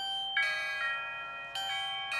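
Electronic chime of a budget video doorbell with camera, sounding twice in bright ringing tones with a pause between, alongside a phone ringing along with it; clear and close, no voices.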